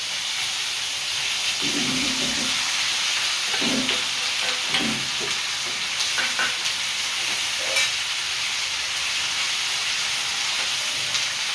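Fried fish pieces, green chillies and onion sizzle and hiss in hot oil in a pan, with scraping stir strokes rising through a steady, close frying crackle.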